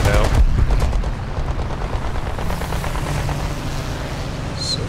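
A Gladiator MK II biplane's guns rattle in War Thunder air combat, a loud, rapid, continuous stream of shots under a droning engine, with a voice talking over it.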